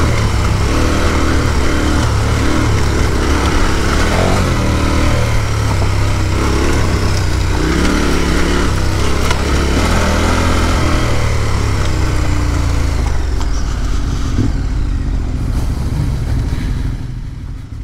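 A motorcycle rides off-road on a dusty track during a rally raid, its engine droning loud and near throughout, with rattles and rising revs, easing off at the end.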